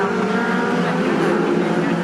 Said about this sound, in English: hanging on in the lead of the motor race is car number 30, Andy Bird